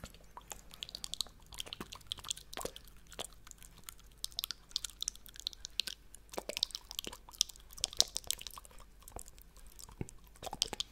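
Dry tongue fluttering, done without water for ASMR, gives quick scattered clicks and light smacks right at the microphone, soft and intimate, with no speech.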